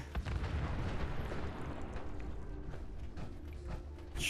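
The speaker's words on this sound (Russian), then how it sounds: "Че все взрывается" A deep boom rolls out in the video game Fallout 4 and fades slowly, followed by quieter scattered cracks and thuds at a distance, with another sharp burst right at the end.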